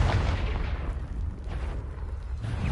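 A Confringo blast spell exploding in Hogwarts Legacy: a dense, heavy, booming burst with a rumbling low end that fills the whole moment, loud and close, with no talk over it.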